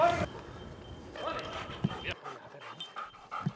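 Drahthaar hunting dog tussling with a roe deer, with short scuffling bursts and faint dog noises at a distance, mixed with rustling and a brief loud burst at the start.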